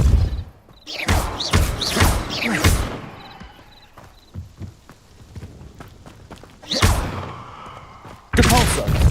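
Depulso spell casts in Hogwarts Legacy, a burst of loud whooshing blasts and heavy thuds, two big clusters early on and more near the end, with quieter in-game rumble between.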